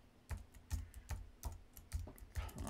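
Quiet, fairly even keystrokes on a computer keyboard as a password is entered, about two to three clicks per second, close and alone.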